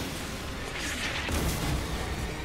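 A rocket explodes in the video game Resident Evil 3, a loud rumbling blast swelling over a dense roaring background, booming strongest midway with no talk.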